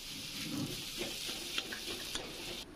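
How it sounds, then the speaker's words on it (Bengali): Spices are stirred into potato samosa filling in a hot pan, a quiet even sizzle with light spoon scrapes and clinks, close and fairly faint, no talking. "ভালো করে মশলাগুলো নাড়িয়ে দিতে হবে।"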